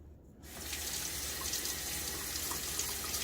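A razor rinsed under a running tap, steady close water flow splashing into a sink after a brief quiet start, continuous and fairly loud with no talking.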